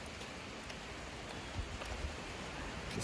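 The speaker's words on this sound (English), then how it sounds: "It is just a freaking downpour" Heavy rain pouring down in a steady broadband wash, with a few heavier splashes and drops near the end; no talk.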